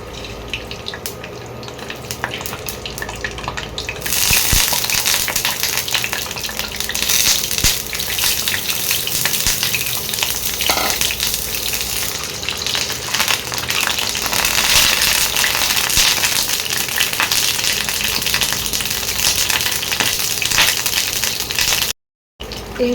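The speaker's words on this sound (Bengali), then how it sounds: "তেলটা গরম হয়ে গেছে। এবারে এই সেদ্ধ করা ডিম, 6খানা সেদ্ধ করা ডিম আছে, এই ডিমগুলো এবারে আস্তে আস্তে আমি দিয়ে দেবো।" Six boiled eggs slid into hot oil for Bengali dim bhapa: a loud, dense crackling sizzle that swells after a quieter start and holds steady, close up, with a brief dropout near the end and no talking.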